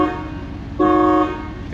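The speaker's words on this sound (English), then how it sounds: "Damn thing's got a train horn." A train horn fitted to an everyday car gives one loud, steady, multi-tone blast of about half a second, rising over a quieter horn-like drone that runs before and after.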